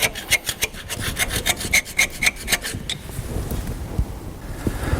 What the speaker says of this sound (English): we can now remove all the rust and scale and clean up the hub where the new bearing is going to fit